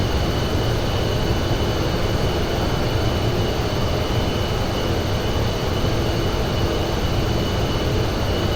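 Steady, loud drone of a small airplane engine climbing, a constant roar with no breaks or variation throughout.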